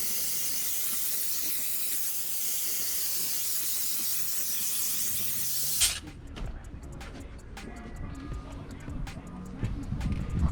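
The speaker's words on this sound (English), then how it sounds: "we steam cleaned the interior" A steam cleaner hisses steadily while cleaning a car's interior, then cuts off abruptly, leaving quieter scattered rubbing and clicking sounds afterward.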